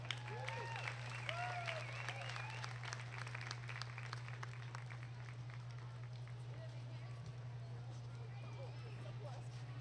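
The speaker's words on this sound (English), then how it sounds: "Let's give them a big round of applause." Audience applause at a market goat showmanship contest, steady clapping over a constant low hum, with bleating-like calls and crowd murmur mixed in throughout.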